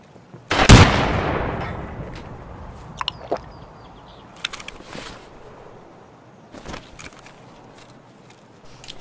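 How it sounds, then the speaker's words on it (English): Video game gunfire: a loud, close burst of rapid shots as a full magazine is emptied, followed by a decaying echo and scattered distant shots and pops afterward. "Fucking mag dump three people."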